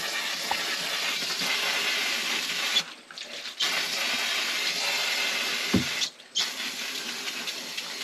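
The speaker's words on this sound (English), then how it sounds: "brake cleaner." Brake cleaner aerosol sprayed onto the rear brakes of a Subaru Legacy GT makes a loud, continuous close-up hiss in long blasts, broken by two brief pauses.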